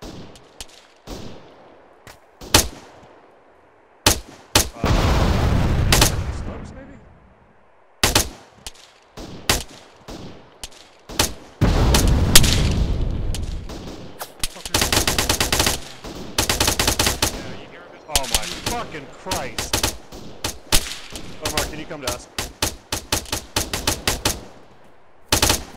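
Machine gun fire in the military shooter game Arma 3, loud bursts of automatic rounds in long and short strings with brief pauses, close and dominant throughout.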